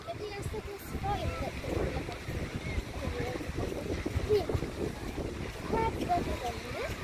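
Strong wind on the beach at Jastrzębia Góra buffets the microphone with a constant low rumble and gusty roar, while people talk nearby over it.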